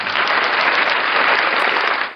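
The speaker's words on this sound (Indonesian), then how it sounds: "Ayo kita sambut dengan tepuk tangan" Steady, dense applause from a crowd, sustained evenly at a strong level before cutting off abruptly, with no voices over it.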